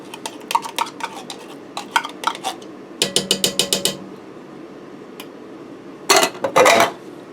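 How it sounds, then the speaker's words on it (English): A spoon scrapes and clinks against a Dutch oven while lasagna soup with tomato paste is stirred, irregular close metallic taps and scrapes in clusters with a louder burst near the end, no talking. "I'm just going to give that a stir quick to combine everything."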